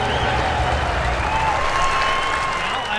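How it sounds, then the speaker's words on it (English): Big crowd at Eldora Speedway applauding for the state and country flag bearers: a continuous, dense wash of clapping and crowd noise, with a faint tone and some voices underneath. "How about a collective Eldora round of applause for all of the state and country flag bearers here this evening?"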